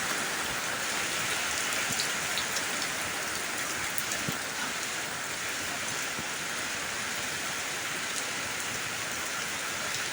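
Steady, dense rain falls close by, a constant hiss of drops striking surfaces with no pauses, loud and even throughout with no voices.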